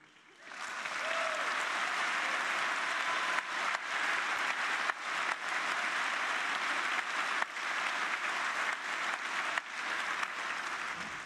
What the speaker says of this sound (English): you're actually applauding the wrong people